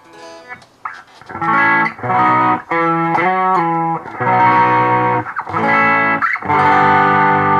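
Electric guitar played through a Digitech Hotrod distortion pedal with gain low, chords and riffs in loud bursts with short gaps, gritty but not heavily saturated.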